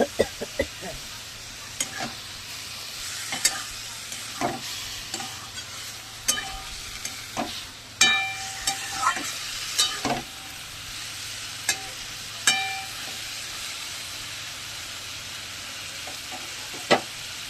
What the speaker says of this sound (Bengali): জল দিয়ে এখন অনেকক্ষণ ধরে এটা নাড়াচাড়া করে দেবে